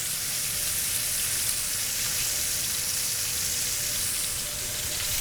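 A New York strip steak sears in a hot pan with a loud, constant hiss of frying fat, steady and close, with no pauses.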